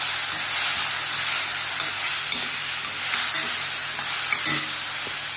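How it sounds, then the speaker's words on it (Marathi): A masala mixture of Schezwan chutney and tomato paste stirred in a frying pan, giving a loud, steady sizzle with scraping stirring strokes throughout and no speech. "सगळं परत मिक्स करून घ्या."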